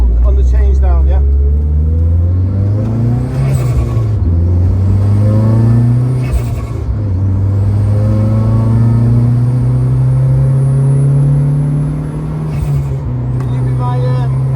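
A car engine revs during track day laps, heard from inside the cabin as a loud, droning hum that rises and falls with gear changes, with people talking over it.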